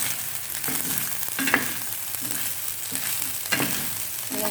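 Whole spices such as clove and cardamom frying in a pan for chicken fry, a steady close sizzle with a few louder crackling bursts and stirring scrapes, no voices.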